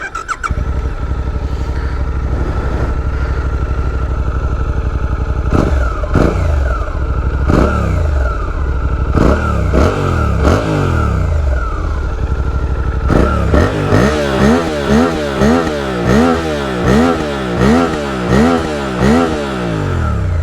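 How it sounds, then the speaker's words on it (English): Engine and exhaust of a 2023 Suzuki V-Strom 800 DE motorcycle, idling low and steady, then revved in a run of sharp repeated blips that rise and fall, loud and close with no talk. "the engine sound, the exhaust sound, it's much lower than on the Transalp"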